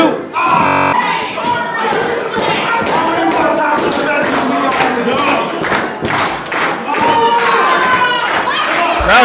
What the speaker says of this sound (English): Crowd chant for him.